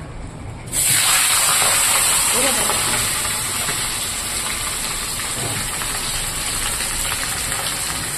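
A fish head and tail drop into hot oil with spices and start frying, bursting into a loud, steady sizzle after a quiet start and then settling into a continuous hiss.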